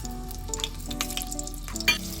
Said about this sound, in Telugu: ఇప్పుడు కొంచెం ఆయిల్ హీట్ అయ్యాక గ్రీన్ చిల్లీస్ వేసుకోవాలి